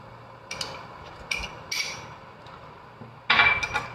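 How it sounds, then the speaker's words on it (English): Grated cucumber being whisked into thick yogurt dip in a bowl, giving sparse, sharp clinks and taps of the whisk against the bowl, a few seconds apart and louder toward the end, with no talking. "just make sure that you just whisk the cucumber really well in it"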